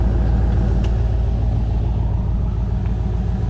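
A 1975 Plymouth Duster's slant six engine runs at a steady idle, giving a continuous low rumble close by with no talking over it.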